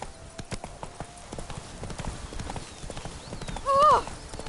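Hoofbeats of Roach, Geralt's horse in The Witcher 3: Blood and Wine, thud in a steady galloping rhythm, with a brief whinny-like cry rising near the end.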